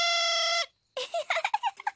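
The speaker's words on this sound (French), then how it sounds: "On appelle celui-là une fauvette à trompe." A whimsical cartoon elf instrument, a trumpet warbler from Ben and Holly's Little Kingdom, blares a sustained horn-like tone, falls silent briefly, then bursts into a quick run of chirpy, warbling toots.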